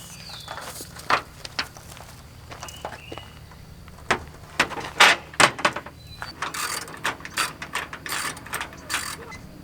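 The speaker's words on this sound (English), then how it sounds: "we're then going to tighten the two end clamps right here on the end first" Solar panel end clamps are tightened with a ratcheting tool, giving bursts of quick mechanical clicks close by, sparse at first and then coming in steady runs, with no talk.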